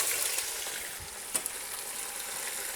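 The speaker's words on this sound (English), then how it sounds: "So heat it up to 180 and then we fry it a second." Chicken pieces deep-fry in oil heated to 180 for a second fry, a steady broadband sizzle with small crackles and one or two sharper pops, close and continuous throughout.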